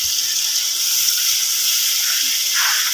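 Butter and masala frying (bhuna) in a pan for dal makhani give a steady, close, unbroken sizzling hiss that holds level throughout.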